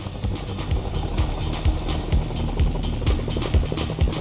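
Heavy rhythmic thumping of a Chinook helicopter's rotors, a fast steady chop, loud and close over a rumbling engine roar.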